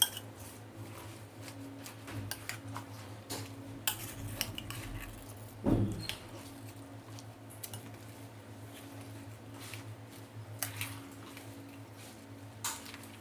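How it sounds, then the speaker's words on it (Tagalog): Chicken veggie salad is tossed in a bowl, with soft irregular clinks and scrapes of utensils against the dish and a few squishy stirs, fairly quiet and close. "Yan, haluin lang natin. Para lahat malagyan."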